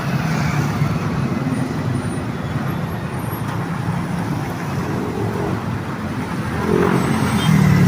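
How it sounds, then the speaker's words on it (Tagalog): Dense road traffic on C5 opposite the airport, with cars and big trucks producing a steady low rumble of engines and tyres that swells slightly toward the end. "Grabe, kabilaan na yung traffic."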